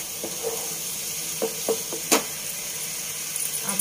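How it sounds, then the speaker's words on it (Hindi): Spice masala sizzles in a pan as it is sautéed, a soft steady fry broken by a few short clinks and scrapes of stirring. "सारे मसाले को बहुत अच्छे से भून लेना है।"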